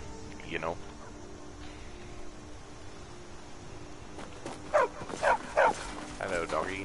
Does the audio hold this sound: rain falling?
no